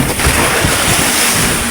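Loud rushing wind and churning ocean water surround a moving, loaded outrigger boat in big waves, with heavy surf sloshing close by in a continuous roar.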